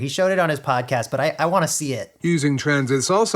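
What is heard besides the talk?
No everyday noise stands out behind the speech.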